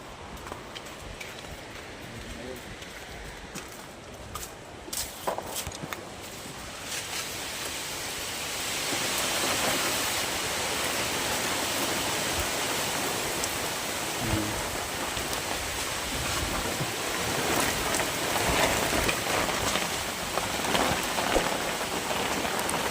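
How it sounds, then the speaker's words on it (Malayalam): Heavy rain sweeps in with strong wind near a riverside fishing spot in Kerala. Scattered drops give way to a dense, steady roar of rainfall that grows louder and fuller and then keeps a continuous hiss on the surroundings. "ആ മഴ ഇറച്ചുകൊണ്ട് വരുന്ന സൗണ്ട് നിങ്ങളൊന്ന് കേട്ടോണേ. ഭയങ്കര സൗണ്ടാ, ഭയങ്കര കാറ്റ് വരുന്നു."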